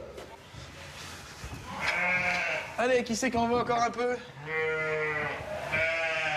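Berrichon de l'Indre sheep, a local breed from the Indre, bleat several times close by in a farm setting, some calls overlapping. Someone speaks over the flock.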